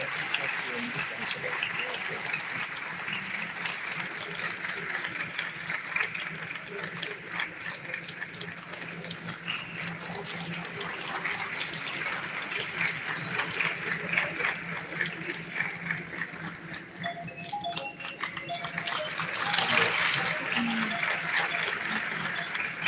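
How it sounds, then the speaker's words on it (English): An audience at a live event applauding a director, with steady clapping that runs under a speaking voice and swells toward the end. "A thunderous clapping for a very good director, Sardar Samarpreet Singh"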